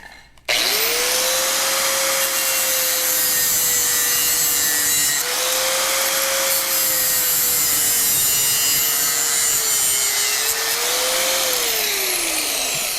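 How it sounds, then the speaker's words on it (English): A cutting wheel cuts a circle out of an air filter inlet for a Cub Cadet diesel garden tractor, making a loud, steady, high-pitched whine and grind whose pitch dips and rises slightly, with no talking. "take this cutting wheel and go around here and cut the circle out"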